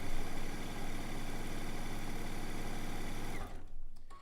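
A sewing machine runs steadily, stitching quarter-inch quilt seams, with a fast even whir that stops abruptly near the end, followed by a few faint clicks.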